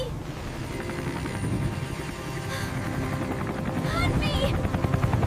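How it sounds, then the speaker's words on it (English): A helicopter sound effect in a Lego tornado animation chops steadily for several seconds, rotor thumping and rising slightly louder, with voices speaking over it. "A helicopter! They found me!"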